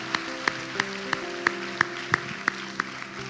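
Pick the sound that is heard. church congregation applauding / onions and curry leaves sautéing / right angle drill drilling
church congregation applauding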